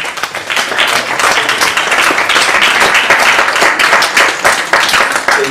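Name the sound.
audience applauding the speaker Dominique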